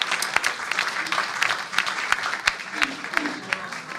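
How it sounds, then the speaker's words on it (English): Audience applause at a live concert, a dense steady clapping from a crowd with sharper individual claps standing out, moderately loud throughout. "One more round of applause, everyone, for the amazing."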